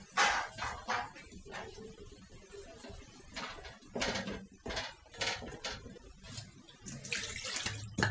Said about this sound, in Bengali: এখানে চিংড়ি মাছ ধুয়ে রাখছি কালকেই।